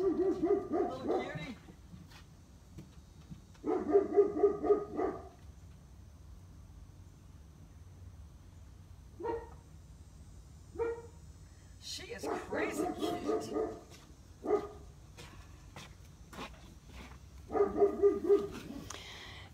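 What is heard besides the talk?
small dog barking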